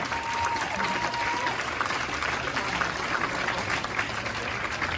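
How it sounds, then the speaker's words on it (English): Audience applause as a speaker comes to the stage, a steady, dense wash of clapping sustained throughout at moderate loudness, with a faint tone briefly audible early on. "Big round of applause"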